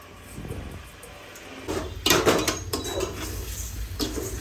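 Washed rice being stir-fried in an electric cooker pot for chicken dum biryani, with quiet scraping at first, then louder clinks and scrapes of a utensil against metal in uneven strokes.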